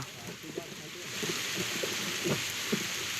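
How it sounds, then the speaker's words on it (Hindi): Steady rain hiss fills the background, with muffled voices talking underneath it throughout. "बारिश की बूंदें अब और भी तेज हो गई हैं"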